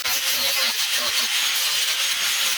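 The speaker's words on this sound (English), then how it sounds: "I gotta grind off more" Metal grinding during a racing lawnmower build, a harsh, continuous hissing rasp heard close and loud for a few seconds without pauses.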